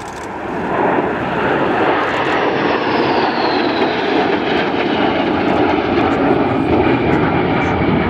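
A fighter jet roars steadily overhead on another pass at the Royal International Air Tattoo air show, loud and sustained after a quick swell, with a faint downward whine as it moves away.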